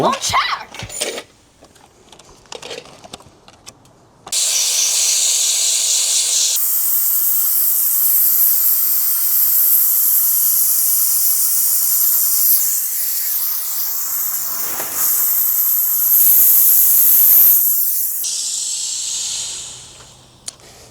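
A small IBIX 9 sandblaster sprays abrasive media in a loud, steady hiss that runs continuously for about fourteen seconds, briefly dipping and changing tone as the gun moves, then tapering off after some short handling noises.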